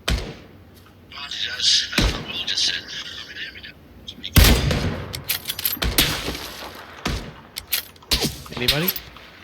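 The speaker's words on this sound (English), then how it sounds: "I think they're shooting from north, southeast." Bursts of gunfire in the PUBG battle royale game, sharp loud shots and volleys scattered through the stretch, with a player talking over the quieter gaps.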